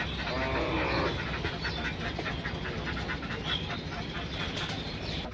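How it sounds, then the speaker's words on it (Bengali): Pigeons released from a village loft burst into a flurry of wing flapping, a close rustling clatter of many wings that fades into softer flutters and ambient noise. "এই যে সাইড আমি আবার কবুতর ছেড়ে দিয়ে নিলাম"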